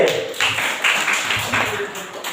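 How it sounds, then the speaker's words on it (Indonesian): A small group at a Quran recitation contest claps for team C. The claps are steady and evenly spaced, about two or three a second, and fairly close. "Oke, tepuk tangan regu C."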